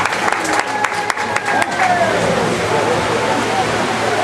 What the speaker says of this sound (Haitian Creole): On applaudit sénateur Yuri Latortue